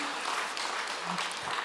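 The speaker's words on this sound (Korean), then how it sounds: "박수 한번 쳐주세요." Church congregation clapping during an evening worship service, a dense continuous patter of applause from many hands filling the room, steady and moderately loud.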